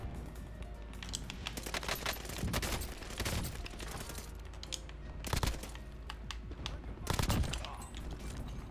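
Rapid bursts of Marco 5 submachine gun fire in Warzone, crackling in short volleys that rise over steady keyboard clatter and game noise.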